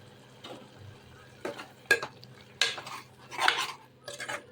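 A spoon stirs fried spices and yogurt in a pot for prawn biryani, giving a few scraping clinks against the metal over a soft sizzle, close and intermittent.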